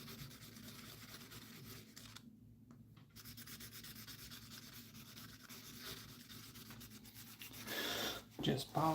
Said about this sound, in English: Just polishing opals